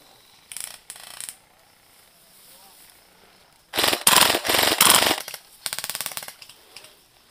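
Airsoft guns fire during a large outdoor skirmish in Hong Kong: two short bursts, then a longer run of rapid, clattering full-auto bursts, and a final burst, all fairly close and loud.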